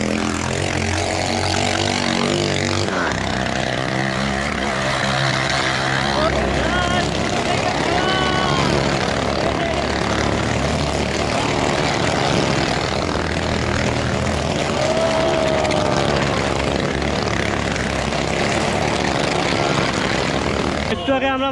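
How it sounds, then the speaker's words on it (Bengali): Motorcycles rev loudly and continuously in a motorcycle circus show at the Kanta fair (Rash Mela) near Kantajew Temple, Dinajpur. The engine roar is accompanied by a noisy crowd and voices throughout. "গাইস ফাইনালি কিন্তু মোটরসাইকেল খেলা শুরু হয়ে গেছে এই যে দেখেন"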